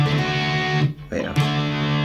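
Electric guitar strumming a barre chord across the second to fifth strings, a sustained ringing chord that breaks off briefly and rings again, moderately loud and close.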